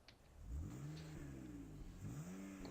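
A car engine in a farming video game revs up loudly, its pitch sweeping upward twice in quick succession over a steady mechanical drone, with no talk over it.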